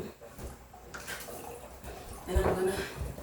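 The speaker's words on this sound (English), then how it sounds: "Let the water out." Water drains from a bathtub after a bath, a soft, murky wash and gurgle that swells toward the end, close by, with low voices and movement around it.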